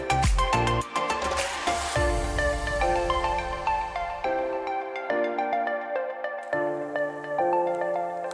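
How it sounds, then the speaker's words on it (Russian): Mobile phone ringtone for an incoming call: a bright, loud electronic melody plays alone, with a busy run of notes at the start that settles into a stepping tune. "О, Катя звонит"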